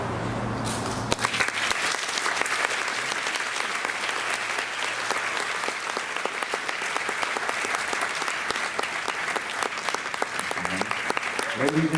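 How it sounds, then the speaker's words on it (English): Audience applause fills the space after a hula kahiko performance at an evening Hawaiian cultural show, loud, sustained clapping from a crowd that carries on steadily throughout. "please a big round of applause one more time"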